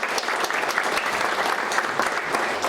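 Steady, dense applause from an audience welcoming officials at a political forum in the National Assembly Constitutional Memorial Hall, many hands clapping continuously at an even level throughout.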